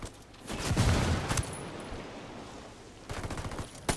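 Rifle gunfire from a Ghost Recon Wildlands video game firefight, with bursts of sharp shots near the start and again toward the end, fairly faint, with no talking.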